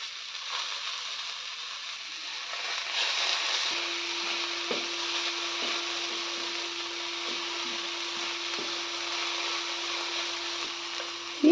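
Chopped onions with coriander and mint leaves sauté in a hot pan, giving a steady, soft frying sizzle close by that runs throughout without speech, ending in a short scrape.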